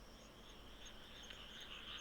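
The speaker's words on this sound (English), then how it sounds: "You can hear frogs. It's because of all they've got rice planted here." Frogs croak in a continuous chorus across rice fields at night, a faint, steady trilling drone heard from a distance with no talking.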